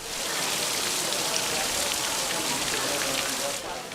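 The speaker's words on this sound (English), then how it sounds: "The Kansas State Fair getting a soggy start with rain falling on its opening day" Steady rain at the Kansas State Fair on its opening day, a dense even hiss of drops striking surfaces, loud and constant, easing slightly near the end.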